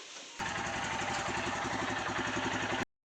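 A Royal Enfield Himalayan BS6 motorcycle engine starts abruptly and settles into a steady, loud, close-up idle with an even thumping pulse, then cuts off near the end.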